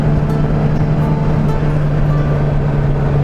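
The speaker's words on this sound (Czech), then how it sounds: "ten motor jede v širokém spektru otáček, jede docela i od nízkých otáček" A Seat 1200 Sport Bocanegra's engine drones steadily as the car accelerates, a continuous loud hum with no talking over it.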